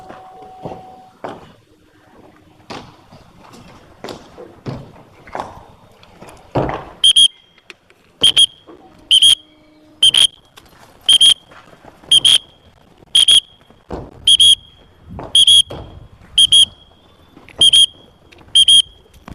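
A pigeon keeper's whistle blasts in short, loud, evenly spaced shrill bursts, about a dozen in a row, after quieter outdoor rustling and faint background noise while pigeons are flown.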